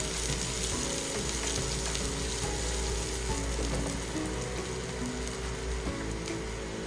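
Garlic and onion sauté in a hot pan for a chicken Bicol Express, giving a steady, close sizzle and crackle that runs throughout, with no talking over it.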